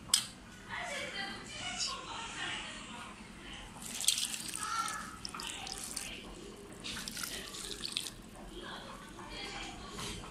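Water is sprinkled over steamed Moroccan couscous, a soft continuous patter and splash of drops close by, with someone talking over it throughout.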